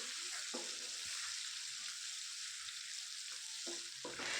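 Onion with ginger-garlic paste fries in a pan with a loud, steady sizzle. Now and then a spoon stirs and scrapes through it, near the start and again toward the end.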